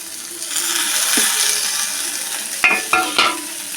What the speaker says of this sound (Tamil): ஒரு வதக்கு நம்ம வதக்குறோம்